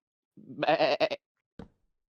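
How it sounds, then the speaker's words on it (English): A single wavering sheep bleat from a Minecraft game, close and clear, followed by a short faint echo of another bleat, otherwise silent. "I just heard a sheep"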